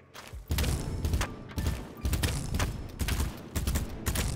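An FAL rifle fires in repeated bursts in the Battlebit video game, loud booming salvos of shots separated by short pauses, six or so bursts in quick succession.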